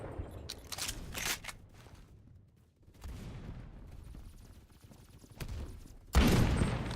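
Gunfire in the Phantom Forces shooter game, a few sharp bursts of shots and crackling impacts scattered across a busy stretch of noise, ending with a loud heavy blast.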